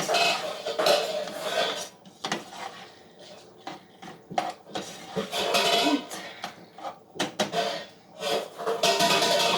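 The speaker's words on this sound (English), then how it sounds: "Go ahead and give our chili another stir to make sure everything's nice and incorporated." Spoon scraping and clanking in a pot of chili, a busy run of metallic knocks and scrapes with short pauses, close and fairly loud, with no talking.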